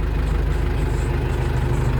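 A DTZ 5404K tractor engine runs steadily under load while pulling a KSO 1.9 cultivator through heavily compacted field soil, giving a continuous, close, loud low rumble with a regular throbbing pulse and no speech.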